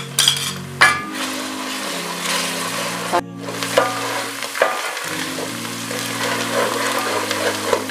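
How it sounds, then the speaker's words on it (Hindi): Ginger-garlic paste frying with onions in a pan for a chickpea curry, a steady close sizzle with a spoon scraping and stirring throughout, a few sharper knocks against the pan, and no talking. "अब हम इसमें अदरक लहसुन का पेस्ट डालेंगे। इसे 2 मिनट तक फ्राई करेंगे।"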